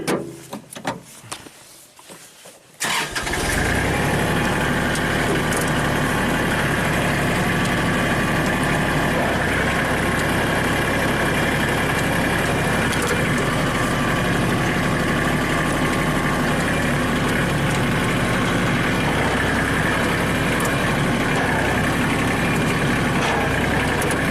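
After a brief quiet start, a repaired Kubota tractor's diesel engine fires up and runs steadily, a loud, continuous rumbling idle close by.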